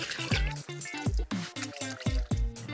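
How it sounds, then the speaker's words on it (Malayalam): A waterproof shoe cover is plunged into a bucket of water, giving a series of close, wet sloshing squelches in repeated bursts with short pauses between them. "ഒരു ബക്കറ്റിൽ വെള്ളം ഉണ്ടെങ്കിൽ അതിനകത്ത് മുക്കിയെടുത്താൽ മതി"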